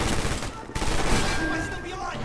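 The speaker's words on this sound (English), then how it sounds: "I hear an MP40 up here, I think." MP40 submachine gun fire in the Red Orchestra 2 game: a dense, continuous rattle of gunfire runs throughout the battle, loud and near.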